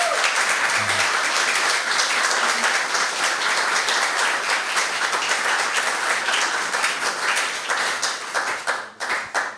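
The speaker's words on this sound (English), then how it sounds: "Can you please give him, for the starters, a warm round of applause?" A sustained round of warm applause welcomes filmmaker Želimir Žilnik at a European culture forum, loud and even for most of the stretch before thinning into scattered final claps.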